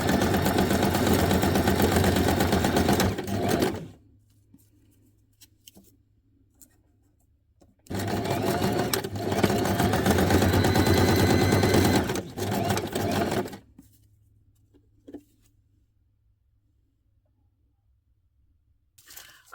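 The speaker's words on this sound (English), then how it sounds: "I just sew them on one big long chain" A sewing machine stitches small paper scrap tabs into one long chain in two loud, close bursts of rapid whirring separated by quiet pauses, with a few soft handling sounds between.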